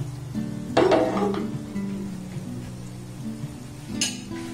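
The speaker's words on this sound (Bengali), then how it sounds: "সবগুলো কিন্তু উল্টে পাল্টে অটোমেটিক ভাজা হয়ে যাবে" Homemade gulab jamun balls of flour and sugar fry in hot oil, a steady low sizzle with occasional clinks and stirring scrapes of a utensil against the pan.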